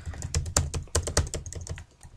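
Rapid close-up typing on a computer keyboard while HTML code is entered, a quick run of distinct clicky keystrokes with small uneven pauses between them.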